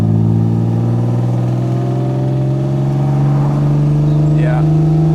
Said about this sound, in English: So that's fourth gear, 1500 RPM, it's 40 kmh. And there she goes, no hesitation.